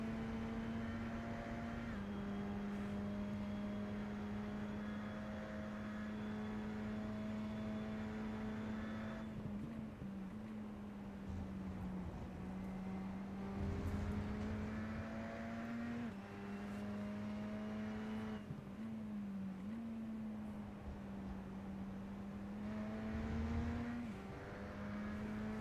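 A steady, droning Radical SR10 race car engine at Road America in a racing video game hums continuously with shifting pitch as it revs and changes gears, loud and unbroken throughout.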